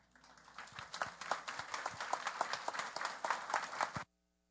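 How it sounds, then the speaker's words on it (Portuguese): An audience at a philosophy talk applauds to welcome the speaker onto the stage, a sparse, fairly faint patter of individual claps that swells briefly and then cuts off abruptly into silence. "Vamos recebê-lo com um aplauso?"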